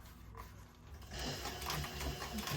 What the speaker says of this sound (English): We're going to back stitch that mother trucker.